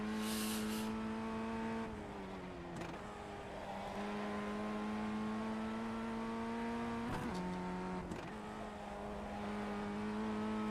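A Ray FF1600 formula race car screams around the Nordschleife in iRacing, its high-revving engine holding a strong steady note with quick pitch drops at each upshift, loud and close throughout.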